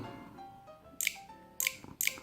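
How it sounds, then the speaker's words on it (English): Three crisp mechanical shutter clicks from an HTC One M9+ smartphone camera, sounding close and alone in a quiet room, spaced at uneven intervals about half a second apart. "you have the same very pleasant shutter sound"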